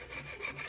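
Old gasket material is scraped off the front sump of a 2JZ engine during an E46 swap, a short close rasping rub with no voices.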